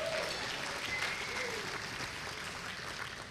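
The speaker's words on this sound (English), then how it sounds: "a big round of applause for the first cowgirl" Warm audience applause at an alumni hall of fame induction ceremony, a full, continuous roar of clapping from a large crowd, loud and even, with a brief voice or cheer briefly rising above it early on.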